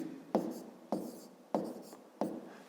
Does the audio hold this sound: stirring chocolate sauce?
no